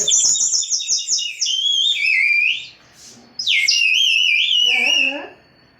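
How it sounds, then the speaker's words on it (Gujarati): A water-filled bird whistle toy gives a rapid warbling trill, then longer wavering chirps in bursts with short pauses, loud and close. "તેની અંદર પાણી ભરવાનું પછી ચકલી જેવો અવાજ આવે"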